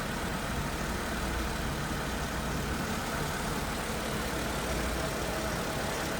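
A 2001 Mercedes-Benz SLK320 roadster engine idles steadily and smoothly, a constant even hum close to the microphone with no voices.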